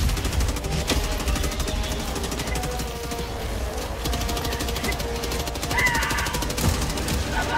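Rapid, heavy autocannon fire in Helldivers 2 rattles on without pause, loud and close, with dense game-style explosions and clatter layered underneath.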